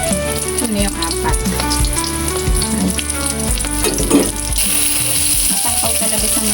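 Eggplant omelette (tortang talong) fries in a pan of oil with a steady, loud sizzle and crackle, with background music and a brief voice partly over it.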